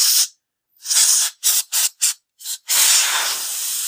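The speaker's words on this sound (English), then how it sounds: "we could spray inside this expansion port too" Compressed air sprays in short hissing blasts into the expansion port of a Sega Dreamcast console to blow out dust: a long burst, a string of quick spurts, then another long spray, loud and close with no talking.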